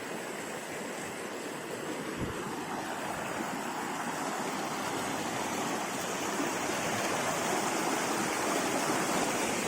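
River water rushes in a loud, continuous broadband roar, steady across the whole stretch, with no voices heard over it.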